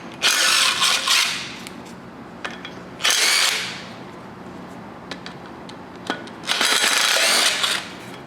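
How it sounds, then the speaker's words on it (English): Power tool or ratchet spinning off the 9/16 bolts on the main drive pulley of a Ford 302 small-block's harmonic damper, in three loud whirring bursts separated by quieter clicks and mechanical clatter. "So now we're gonna remove our main drive pulley on the end of the harmonic damper, and that's a 9/16 bolts."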